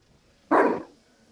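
A person imitates a dog barking during a tabletop D&D session: one short, loud woof burst standing alone, with quiet around it.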